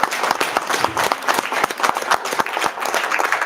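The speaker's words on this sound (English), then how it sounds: "Let's give them another round of applause" Applause from people at a school board meeting, a dense, lively burst of many hands clapping together, close and loud, sustained throughout with no talking over it.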